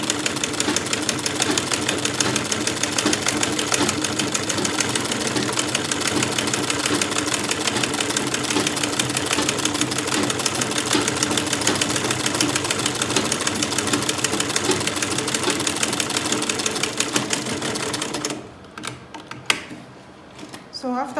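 Sewing machine stitching an under bust corset, a steady fast mechanical whir and rapid needle clatter running continuously for most of the clip before stopping abruptly near the end, leaving faint handling noise.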